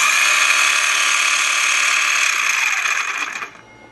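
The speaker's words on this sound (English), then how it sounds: "it doesn't even sound like a cordless circular saw. Just turn it on right quick." A Durabuilt 18-volt cordless circular saw runs at a steady high whine with no cutting, holding constant for a few seconds before spinning down and fading out.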